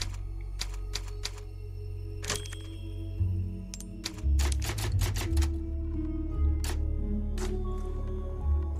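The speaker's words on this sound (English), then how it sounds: "Typewriter." Typewriter in the Resident Evil 4 Remake video game: a run of sharp, separate key clacks and thunks spread irregularly across several seconds, close and distinct, over a low steady game ambience.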